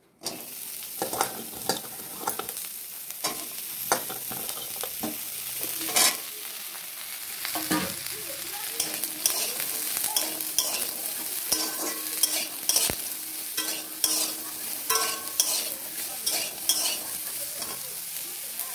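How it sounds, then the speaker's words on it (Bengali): Pointed gourds (potol) dry-fry in a wok with only the little oil already in it, giving a steady sizzle broken by frequent sharp scraping and clattering stirs, close and fairly loud, with no talking. "কড়াই বসিয়ে দিয়েছি আমি এর মধ্যে তেল দেবো না, যেটুকুনি পরিমাণ আছে সেটুকুনি আমি এগুলোকে এর মধ্যে পটলগুলোকে দিয়ে দেবো"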